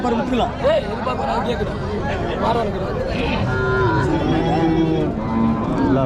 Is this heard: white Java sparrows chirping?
no